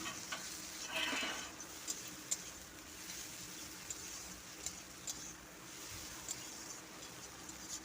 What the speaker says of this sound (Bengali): এইবার পেঁয়াজটা ভালো করে ভেজে নেব